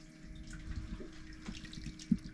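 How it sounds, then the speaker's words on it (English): Water trickles slowly and steadily as the sparge runs on a Hefeweizen beer mash, a soft continuous liquid wash with one brief louder splash near the end. "Got the sparge going slowly."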